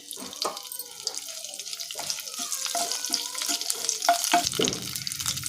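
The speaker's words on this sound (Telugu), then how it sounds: "ప్యాన్ పెట్టుకొని ఆవాలు జీలకర్ర కరివేపాకు వేసి ఫ్రై చేసుకోవాలి" Mustard seeds, cumin and curry leaves fry in a hot pan on a stove, with irregular crackling pops and sizzling bursts over a running, splashy background.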